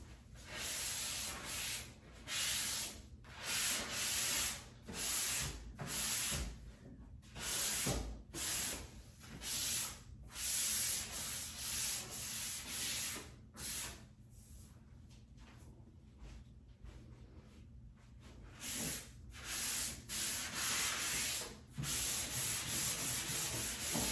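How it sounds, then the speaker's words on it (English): Sandpaper rubs back and forth by hand across painted wooden furniture between coats of paint. It makes a steady series of soft, close, rhythmic scratchy strokes with brief pauses between passes. "And I do sand between all coats."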